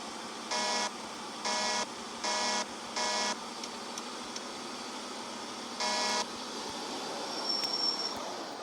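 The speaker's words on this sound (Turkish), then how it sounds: "Tır kornamız güzelmiş." A truck horn in a truck simulator video game honks in four short evenly spaced blasts, then one more after a pause, each a bright buzzy tone over a quiet engine hum.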